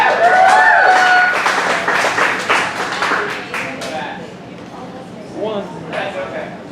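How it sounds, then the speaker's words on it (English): An audience at a poetry slam in Dayton, Ohio claps for a poet, loud and close at first, then fading into scattered claps under talk and whistles. "Applaud poet."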